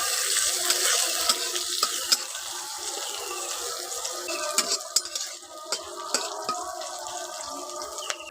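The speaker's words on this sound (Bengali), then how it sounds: "এবার দিয়ে দিচ্ছি পেঁয়াজ কুচি, একটু ভেজে নেব।" A steady sizzle of chopped onion frying in oil fills the clip, broken by small clicks and scrapes as a spoon stirs the pan.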